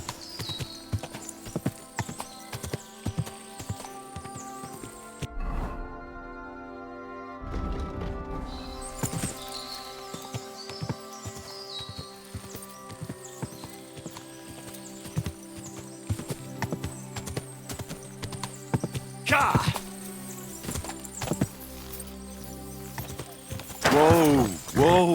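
Horse hooves trotting in Kingdom Come: Deliverance 2 make a steady, close clip-clop that breaks off briefly near the start and then resumes, with a short whinny and some clatter along the way.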